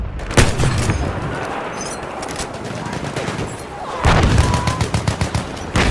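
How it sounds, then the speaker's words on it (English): Enemy machine gun fire rattles in Battlefield 1's River Somme conquest map, rapid bursts of gunshots with a heavier volley near the end, amid battlefield noise and shouted voices. "Feindliches Maschinengewehr!"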